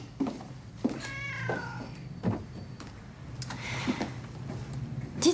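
A pet cat named Circé meows indoors, a few short close meows spread across a quiet room with soft ticking and light shuffling around them.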